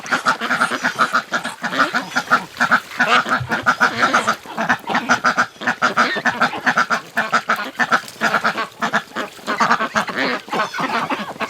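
Ducks in a breeding pen quack loudly and continuously in close, rapid overlapping bursts, a busy chorus with no talking.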